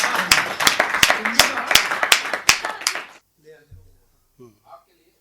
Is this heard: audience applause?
yes